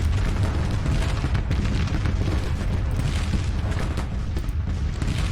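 Civil War artillery guns firing in the Grand Tactician battle game: a dense, continuous barrage of loud booms and distant cannon reports rolling over each other for several seconds.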